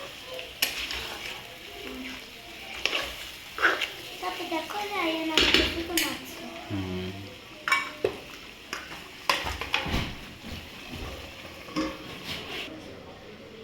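White biryani being stirred and fried in a pot, with sizzling and the scrape and clatter of a utensil against the pot, close by and intermittent, while people, including a child, talk over it.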